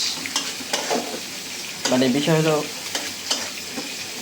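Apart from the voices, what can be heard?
food frying in a pan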